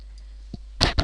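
A few sharp, close mouse clicks tap out in quick succession, with a faint tick before them, in a quiet room while someone saves data entries in an online submission form.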